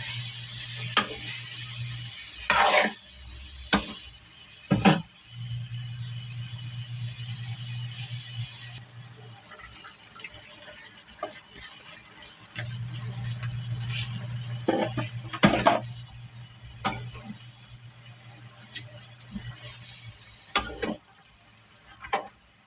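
Bell pepper, sayote and cabbage stir-fried in a pan, a steady close sizzle broken by sharp scrapes and clinks of the spatula as the vegetables are tossed.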